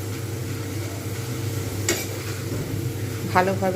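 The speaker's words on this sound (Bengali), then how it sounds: "যতক্ষণ পর্যন্ত না একটু হালকা লালচে লালচে ভাব আসছে ততক্ষণ পর্যন্ত কিন্তু আমাকে এইভাবে ভেজে যেতে হবে" Potatoes for crispy aloo bhaja deep-fry in oil with a low, constant sizzle, and a spatula gives occasional clinks and scrapes as they are stirred. Someone speaks briefly over the cooking.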